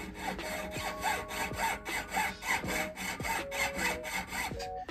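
Fine saw blade cutting through a gold ring during ring sizing, a rapid rhythmic rasping with quick back-and-forth strokes, close and steady across the whole span.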